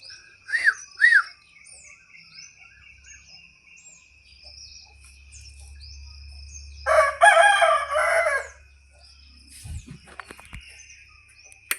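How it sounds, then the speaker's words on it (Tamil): A rooster crows loudly nearby in a village in the early morning, with small birds chirping around it and a low steady hum underneath. "காலையில் சேவல் கூவிடுச்சுங்க."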